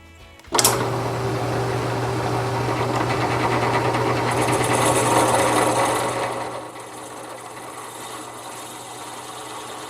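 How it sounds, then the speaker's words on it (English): A drill bores a pilot hole with a standard twist bit. It starts abruptly with a steady, loud motor whine that grinds through the material for about six seconds, then drops away. There is no talk. "Let's see if this standard twist bit can handle the pilot hole better than the brad point did."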